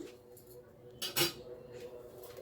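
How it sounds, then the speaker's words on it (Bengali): A pot lid comes off with a short clatter and a fish curry with raw tomato is stirred, giving a soft scrape and clink of metal over a quiet background. The whole sound is faint and nobody speaks. "তিন মিনিট বাদে আবার ঢাকাটা খুলে আবার একটু নাড়িয়ে নিচ্ছি"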